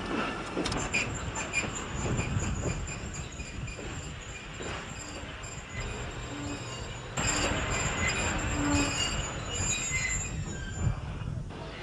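A train running on rails, a continuous loud rumble with squealing wheels and metallic rattling throughout, heard from on board.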